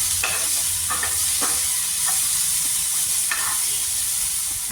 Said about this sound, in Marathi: आपण यामध्ये टमाटर टाकून घेऊ. आणि थोडंसं परतून घ्यायचं याला.